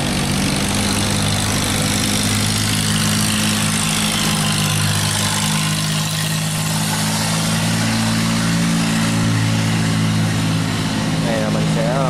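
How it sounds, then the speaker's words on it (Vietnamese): Large vehicle engine running steadily, filmed up close, with a loud continuous low drone and hum that holds throughout, accompanied by broadband noise. "Mình quay động cơ để các bạn xem."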